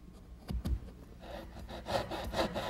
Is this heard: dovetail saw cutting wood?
yes